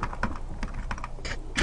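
Someone types on a computer keyboard, a quick irregular run of close, crisp key clicks with no talk.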